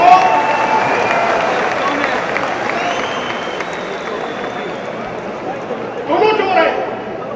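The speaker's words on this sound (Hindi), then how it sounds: "ठोको ताली ठोको।" A large crowd applauds at a political rally speech in India, a sustained dense wash of clapping and crowd noise that swells again near the end.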